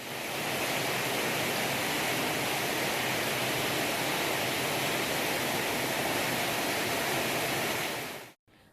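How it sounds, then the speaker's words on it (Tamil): Heavy rain pours down steadily in Thanjavur district, a dense roar of falling water and runoff that stays constant and close, then cuts off abruptly near the end. "தஞ்சை மாவட்டம் சாலியமங்கலம், அம்மாப்பேட்டை உள்ளிட்ட பகுதிகளில் 2 மணி நேரம் பலத்த மழை கொட்டியது"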